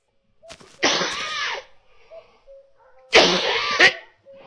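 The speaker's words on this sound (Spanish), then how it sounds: "Vaya tos me llevas, ¿no?" A character coughing in the video game My Summer Car: two harsh, loud cough bursts a couple of seconds apart, close by, with faint quieter sounds between them.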